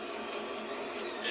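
A steady mechanical buzzing and rattling drone from an electric sugar cane juicer's rollers, holding at moderate level throughout with no pauses.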